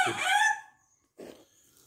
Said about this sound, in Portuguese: Olha o galinho aí. O galo.